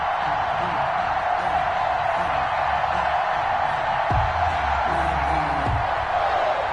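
Broad, steady roar of a packed NFL stadium crowd in Madden 21 before a Seahawks–Giants game, sustained at a constant level through the whole stretch, with a commentator's voice running over it.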